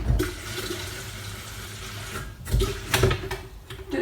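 Tap water runs into a kettle in a home kitchen, a soft steady splashing stream with a few louder gurgles and knocks near the end, fairly quiet and without talk.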